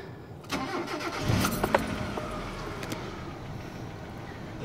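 A Mitsubishi Galant with a 4G67 engine cranks and catches about half a second in, then settles into a steady, even idle that continues to the end.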